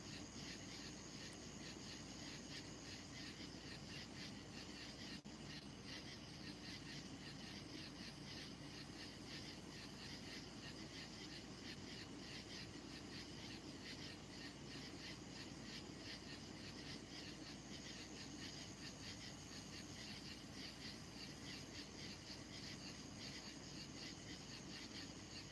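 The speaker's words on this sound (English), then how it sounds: "You guys are going to fall asleep to the sounds of the crickets and the sounds of my voice" Crickets chirp steadily through a night, a dense continuous trill that stays fairly faint, with a constant hum underneath and no voices.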